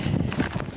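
Strong wind buffets the microphone during a hike on a remote Scottish island, a steady low rumbling roar with gusty swells across the whole short moment and no voice.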